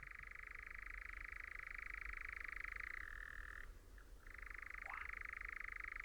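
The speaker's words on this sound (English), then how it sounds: "That's our first churring nightjar of the night." A nightjar churrs out on heathland at night, a steady mechanical trill held for several seconds. It breaks briefly with a pitch shift and then resumes. The bird sounds fairly distant and faint, with no talk.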